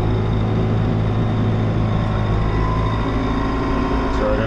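A farm tractor engine, used in preparing a field for corn, runs with a loud, steady, close-up drone that holds at an even level throughout.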